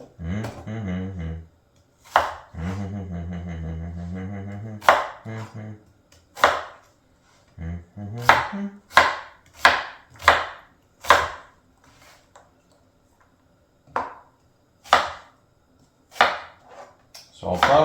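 Knife chopping food on a cutting board during home cooking prep, with sharp, irregular thuds spaced out over the stretch and a voice talking near the start.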